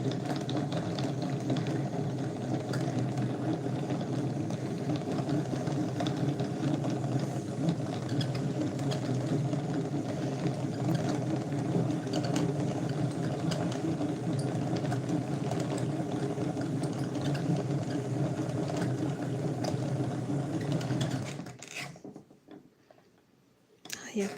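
A yarn winder winds wool thread with a steady, close mechanical whirring and rattling hum that runs for about twenty seconds, then stops abruptly and leaves near silence.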